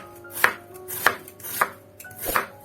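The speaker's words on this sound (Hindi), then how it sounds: "इस प्याज को जो है मैं बहुत बारीक भी नहीं काटूंगी" Four crisp, evenly spaced knife chops on a board as an onion is cut into medium-thick rings for pakoras, close and fairly loud, with no voices.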